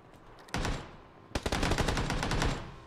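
Close, loud gunshots crack out in PUBG: one short burst comes first, then a longer rapid string of shots follows after a brief pause.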